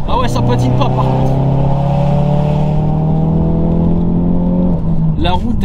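A Ford Focus RS Mk3 accelerates hard on a wet road, its engine note loud and climbing steadily from inside the car before easing off near the end.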